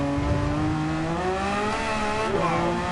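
An Audi race car in a racing video game, its engine droning steadily at high revs with slight pitch shifts as it accelerates, loud and continuous with a faint tire squeal and no talking.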